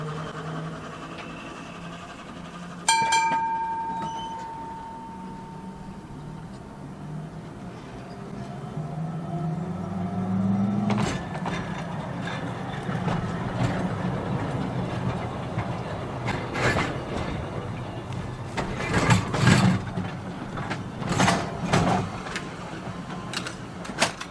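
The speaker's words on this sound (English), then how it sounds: "We catch up with Tram 14 now, in service this time." A tram rolls along narrow gauge rails at Seaton Tramway, East Devon, with rumbling, rhythmic clicks and squeals, a chime sounding early on, growing louder as it passes close by.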